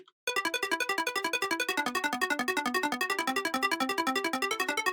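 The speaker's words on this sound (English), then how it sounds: "So the ARP in the intro sounds like this." A bright synth arpeggio from a Flex preset, with chorus stereo widening and the low end cut, opens a remix intro with a fast, evenly pulsing run of repeating notes that starts abruptly and plays on alone.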